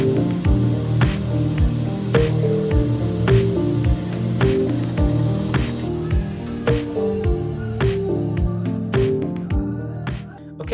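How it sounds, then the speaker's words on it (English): A 180 grit belt grinder sands the spine of a Damascus knife, a steady close abrasive hiss with a humming motor tone and rhythmic ticking pulses throughout. "I'm gonna use a 180 grit belt, and we're gonna get the scratches going this way instead of this way."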